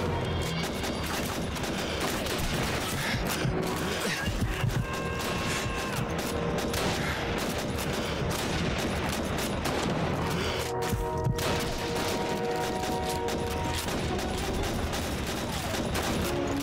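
Sustained battlefield gunfire in Call of Duty 2, a dense, loud din of overlapping rifle shots and mechanical clatter running continuously without a break, with no voices.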